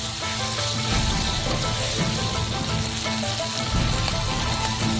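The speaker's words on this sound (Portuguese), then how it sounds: "Primeiro salteamos os ingredientes." Black beans and other ingredients are sautéed in a frying pan, giving a loud, continuous sizzle and fry with faint stirring beneath it.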